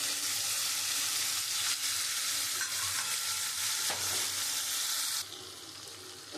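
Spice paste of ground cumin, melon seeds and poppy seed paste with a little sugar fries loudly in a pan for jackfruit-seed dhoka curry, a steady, close, unbroken sizzle that drops slightly quieter near the end.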